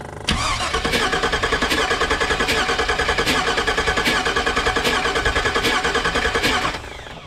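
An engine cranks over steadily without catching during a misfire and spark plug test, a loud, even rhythmic churning lasting about six seconds before it stops.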